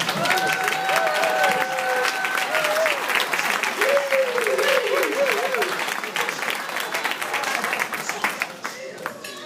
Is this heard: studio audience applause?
yes